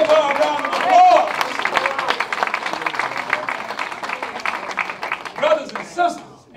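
Audience applause and clapping fill a crowded community fundraiser gathering, a dense steady patter of many hands with crowd murmur, swelling near the start and again toward the end.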